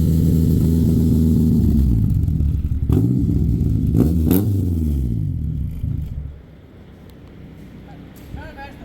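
A Nissan S13's engine roars loud and near, revving up and down in sweeping pulls with a deep rumble before dropping to a lower idle.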